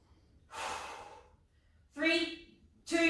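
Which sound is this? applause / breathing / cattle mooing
breathing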